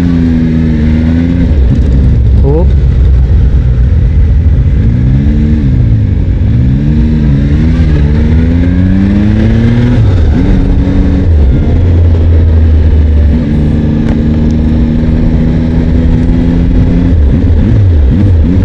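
A Zontes 703F adventure motorcycle engine, not throttle-by-wire, revs up and down repeatedly, loud and close, its pitch rising and falling through several throttle bursts.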